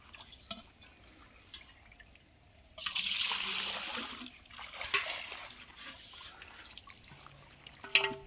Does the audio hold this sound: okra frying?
no